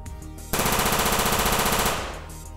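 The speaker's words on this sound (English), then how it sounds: "Have her squeeze off a few rounds." Rapid machine-gun sound effect for a Joy Toy 1:18 scale mecha figure, a loud, dense burst that fires steadily for about a second and a half before tapering off.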